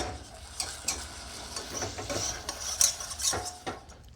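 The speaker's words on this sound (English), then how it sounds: "Mix that in." A spoon stirs vanilla into a warm, smooth gluten-free brownie chocolate mixture in a pot just off the heat, making repeated close scraping and clinking strokes with a faint sizzle underneath and no voices.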